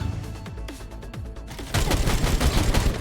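Rapid turret gunfire in a video game breaks out in a dense, loud, continuous barrage after a quieter opening stretch of scattered game sounds.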